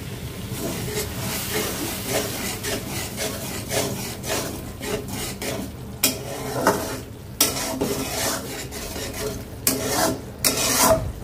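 Spice masala is stirred and fried in a pot, heard as continuous rubbing, scraping strokes with a low sizzle underneath, rhythmic and close throughout with occasional louder scrapes.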